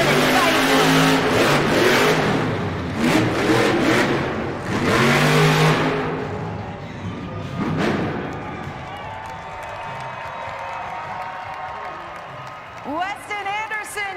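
Gravedigger monster truck engine at full throttle during a Monster Jam freestyle run in Toledo, roaring and revving in loud surges with a cheering arena crowd, easing off near the end before short revs return.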